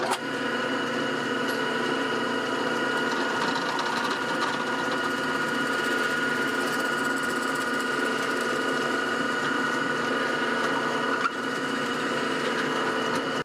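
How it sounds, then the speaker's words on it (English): A drill bores a hole in a part for a vintage US Navy PV2 Harpoon airplane whirligig, the part shimmed underneath to sit level; a steady, close motor whine runs without a break for about thirteen seconds. "Now let's drill a hole for this"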